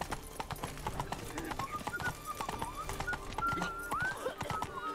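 Horse hooves clip-clop in a steady walking rhythm from the horse Roach in a video game, close and clear, with a few brief whinny-like tones and faint game ambience behind.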